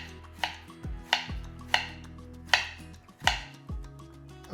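A knife slicing peeled, cored apples for an apple pie, about six crisp chops roughly once a second, each a sharp close thunk into the board with a short crunchy tail.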